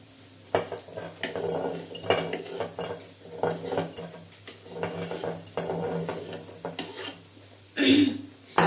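Cut paneer being scraped and moved into a bowl with kitchen utensils, an irregular series of close clinks, scrapes and taps of metal against cookware, with a louder clatter near the end.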